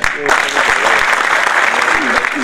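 A ceremony crowd bursts into close, loud applause that quickly settles into a dense, sustained patter, with voices audible underneath.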